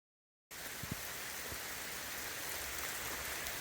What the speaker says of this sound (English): Absolutely torrential rain pour